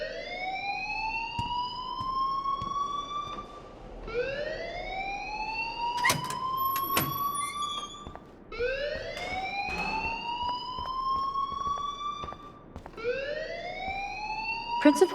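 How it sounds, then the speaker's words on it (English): A fire alarm in the video game Life is Strange, set in a school, wails in repeated rising sweeps, each lasting about four seconds, loud and steady with a few sharp clicks between them. "please turn off that alarm since that's your job"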